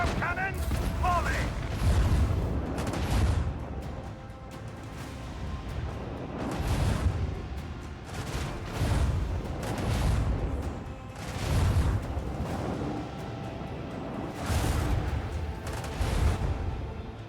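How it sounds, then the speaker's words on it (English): Macro cannons fire a volley in a space combat video game, a run of heavy booming shots landing at fairly even intervals, each one a broad deep blast that fades into the next. "Macro cannons, volley!"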